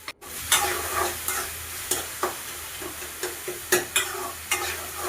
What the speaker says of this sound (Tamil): வெங்காயம், தக்காளி நல்லா வதங்கி வந்துருச்சு. கரண்டிலே நல்லா கிளறி எடுத்துக்கலாம்.